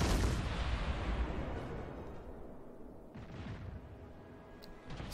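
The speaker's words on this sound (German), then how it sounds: "da kommen nochmal ein paar Schüsse, aber die gehen vorher ins Wasser" Naval guns fire during a battle in the game World of Warships, with a heavy booming blast at the start that decays into a low rumble, followed by fainter distant shots.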